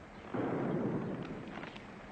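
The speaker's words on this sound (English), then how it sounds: "that's a lot of gunfire" Distant gunfire rumbles as a low, muffled burst of dull booming shots, fairly faint and far off, with a few sharper cracks trailing after and no voices.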